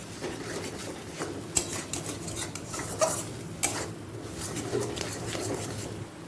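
A spoon stirs egg bhujia in a pan over a medium-high gas flame, giving irregular metallic scrapes and clinks against the pan with a soft sizzle underneath, close and moderately loud.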